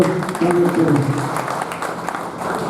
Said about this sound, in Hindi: सब अपने लिए भी ताली बजाकर अपने आप को